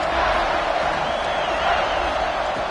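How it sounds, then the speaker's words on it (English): Football stadium crowd roaring to rouse the defense during a red-zone stand in an Oklahoma State vs TCU game, a steady, dense wall of noise with no breaks across the clip. "the crowd coming to life here, trying to help this defense down in the red zone"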